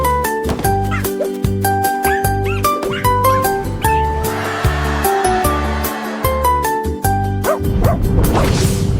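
A dog, the rocket dog in a children's song, barks and yips in a quick, regular series of loud, close barks over a musical backing, with a whimpering, whooshing stretch near the end.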